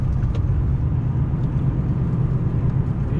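Car driving along a rural road in the Italian countryside near Mantova, with a steady low engine and road rumble continuing evenly throughout, close and fairly loud, no voices.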